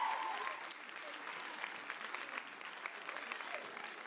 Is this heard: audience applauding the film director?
yes